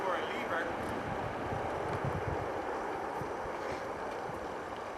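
A Mercury outboard motor runs steadily on a jon boat, its drone close and continuous under wind noise on the water.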